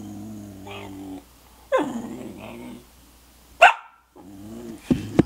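A husky puppy's high, wavering howls and whines rise in short bursts, with yelps and a sharp bark near the end, close by.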